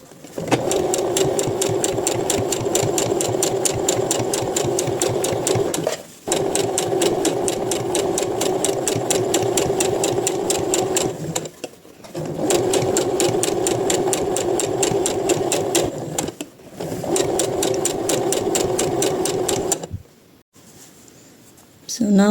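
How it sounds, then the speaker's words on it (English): A home sewing machine stitches a seam on a printed summer blouse, running in steady loud rattling bursts of several seconds, separated by brief pauses where the needle stops. "And now I am hiding this seam by sewing like this"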